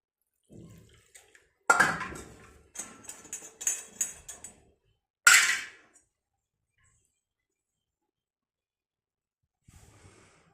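Warm water poured into roasted, ground sesame powder while making a village-style egg curry, heard as a few short, faint splashing bursts separated by quiet gaps.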